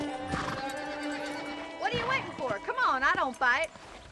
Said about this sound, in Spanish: Ok, y lo ato el caballo.